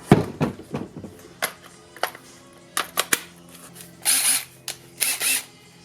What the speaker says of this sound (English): it basically just keeps drilling size by size and keeps going bigger and bigger as you go down